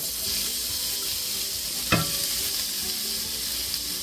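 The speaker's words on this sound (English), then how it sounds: "We're gonna add a little bit of oil in here. Just a little bit. I'm gonna throw in our steak." Steak tossed into a thin layer of hot oil in a pan for cheesesteak filling, giving a steady close sizzle throughout with one brief louder splatter burst as the meat hits, no talking.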